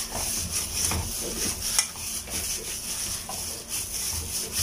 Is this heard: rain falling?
no